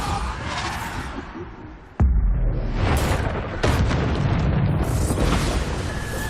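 Bombarda blast spells fire in the Hogwarts Legacy video game: a sudden loud boom at two seconds, followed by sustained rumbling roar and another burst near 3.7 seconds, amid dense continuous battle noise.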